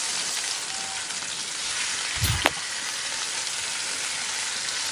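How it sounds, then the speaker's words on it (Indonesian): Fish dropped into hot, fragrant spiced oil in a pan gives a brief burst of sizzling midway, then settles into a steady, fairly loud frying hiss with no talking. "Kalau misalnya bumbunya sudah wangi seperti ini, sekarang kita akan masukkan ikannya."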